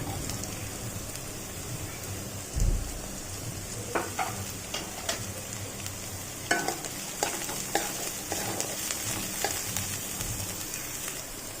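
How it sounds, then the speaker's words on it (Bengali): Steady, close sizzle of capsicum, beans and green chillies frying in a pan for sabudana pulao, broken by intermittent scraping and clicking as they are stirred; no voices. "একটু ভাজা ভাজা করে নেব এবার আমি দিয়ে দেবো ক্যাপসিকাম এবং বিনস কুচিগুলোকে"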